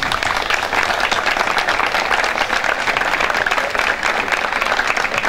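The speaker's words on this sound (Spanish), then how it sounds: "el primer aplauso de esta tarde sería para ustedes por ser canarios" Steady audience applause fills the whole stretch at a Canary Islands Day celebration in Agüimes, a dense, even clapping from a crowd with no pauses or voices standing out.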